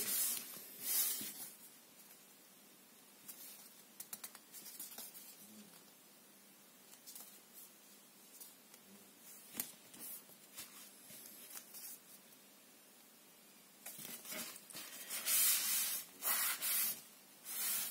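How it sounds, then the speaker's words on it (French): Rubbing on the back of foil-decorated scrapbook paper, a faint, close, dry scratchy hiss in uneven strokes with brief pauses, louder near the end. "je frotte de l'autre côté parce que comme c'est du foil"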